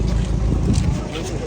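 A steady, loud low rumble of a ship's engine mixed with gusty wind noise across the microphone, on a voyage from Kochi to Amini island.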